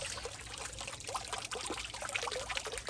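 Water pours steadily from a pond filter head, a continuous close splashing trickle with no talk over it.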